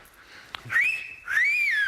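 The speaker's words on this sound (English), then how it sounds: "You may wolf whistle." A person gives a wolf whistle, a short click followed by two clear rising and falling whistled notes, close and fairly quiet.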